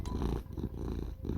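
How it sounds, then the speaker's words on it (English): A close, loud cat purr rumbling steadily with rhythmic pulses, alone without any talking. "That's her loud AF purr."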